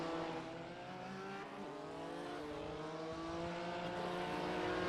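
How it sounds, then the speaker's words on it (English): A GT3 race car in the iRacing sim closes in at Barcelona, its engine a steady, loud harmonic drone that rises gradually as it approaches, with no talk. "you've got another GT3 coming up towards you."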